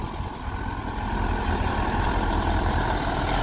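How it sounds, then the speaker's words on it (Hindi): A Sonalika 55 HP four-cylinder tractor pulling an 11-tine tiller at about 1300 RPM runs with a steady, loud diesel rumble and close mechanical clatter, holding constant throughout. "टीलर भी चुकर चुकर कर रहा क्योंकि ट्रैक्टर जो है 55 HP में है"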